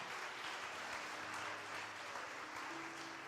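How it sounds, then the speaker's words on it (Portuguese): A worship seminar congregation claps for the Lord in a church, giving dense, sustained applause from many hands that fills the room evenly throughout. "Aplauda ao Senhor."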